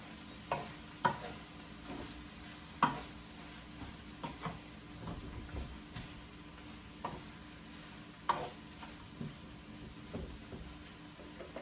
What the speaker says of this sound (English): Stir that up a little bit to combine everything before I add in the other vegetables